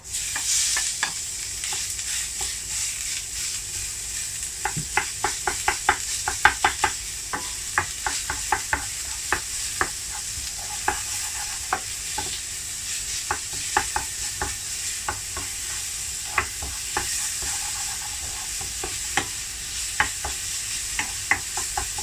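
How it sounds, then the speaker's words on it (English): Pork frying with garlic in a pan for a Thai stuffed omelette filling: a steady, loud sizzle runs throughout, broken by frequent clacks and scrapes of stirring. "The pork going in the pan."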